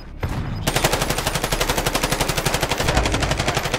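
Sustained automatic gunfire from a video game, a rapid, steady, close burst of evenly spaced shots that runs unbroken for several seconds after a short lead-in.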